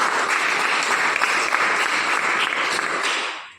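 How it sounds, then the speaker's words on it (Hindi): Dense, steady applause from a large crowd at an Asclepius Wellness business event fills the space at full volume, then fades out quickly at the end. "मैं चाहती हूँ संस्था के लिए जोरदार तालियां होनी चाहिए।"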